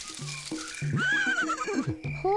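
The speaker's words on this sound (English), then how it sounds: "Horse." A cartoon horse in the Reader Rabbit Toddler video game gives a whinnying neigh with rising and falling pitch, set among short chiming game music notes, loud and close.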